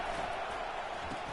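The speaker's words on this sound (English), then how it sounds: "It is getting loud as this crowd tries to help its defense." Steady, dense stadium crowd roar in a college football video game fills the short clip at an even level, a broad wash of many voices with no individual words standing out.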